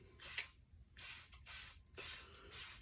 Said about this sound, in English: So I'm gonna spray some WD-40 on here.